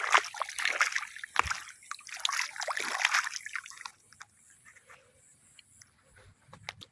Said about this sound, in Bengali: আমি একটু পাটা ধুয়ে নিই।